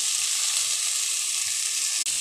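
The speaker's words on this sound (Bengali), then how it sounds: "আলু আর পটল ভালো করে নেড়ে চেড়ে ভেজে নিচ্ছি" Steady, dense sizzling of potatoes and pointed gourd frying in hot oil, close up, with faint stirring scrapes and a brief dip near the end.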